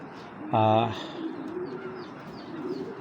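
Domestic pigeons coo once, a loud close burst of low throaty calls, followed by softer background chirps and murmurs in a pigeon coop.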